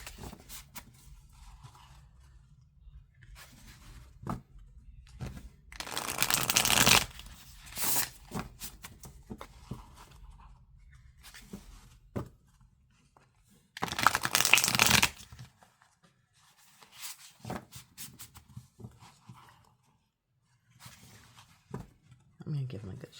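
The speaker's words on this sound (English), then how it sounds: "I'm going to give them a good shuffle." A stiff new tarot deck is shuffled by hand, with bursts of loud riffling and rustling card noise between quieter handling and tapping, while a person talks intermittently.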